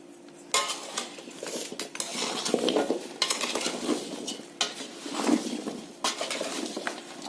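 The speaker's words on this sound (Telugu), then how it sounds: "ఇప్పుడు ఒక పావంతా ఆయిల్ వేసుకొని ముక్కలకి పట్టే విధంగా పట్టించుకోవాలి" Raw mango pieces for a long-keeping pickle being tossed and mixed with peanut oil, giving a close, continuous rattling clatter of pieces and utensil against the vessel with brief louder scrapes, no talking.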